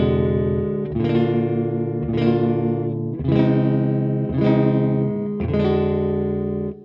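An out-of-tune acoustic guitar chord is strummed five times at a steady pace, each strum ringing loud and sour with clashing, wavering strings, close up and with no voice over it.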